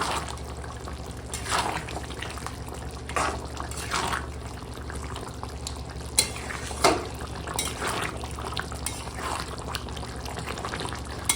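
Chicken curry with garam masala is stirred in a pan: a steady wet scraping and churning with occasional sharp clinks of the spoon against the metal, moderately loud and close, with no talking.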